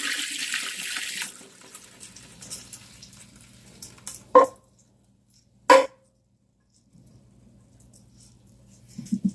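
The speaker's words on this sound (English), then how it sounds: "Now, we are going to dump the water out." Water from soaked texturized vegetable protein gushes into a sink at first, then fades. Two sharp knocks follow, with quiet handling and a low hum between them.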